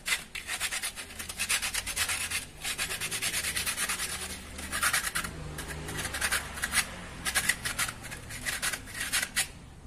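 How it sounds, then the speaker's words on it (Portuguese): A plumbing pipe fitting is sanded by hand with sandpaper, producing close, loud rhythmic scratchy rubbing strokes in quick bursts with brief pauses throughout. "vamos lixar essa peça para a gente poder passar a cola e adesivo"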